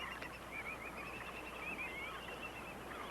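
Flocks of shorebirds call across the mud flats of Roebuck Bay, a tidal bay, as a faint, steady chorus of distant bird calls over a low wash of wind and water.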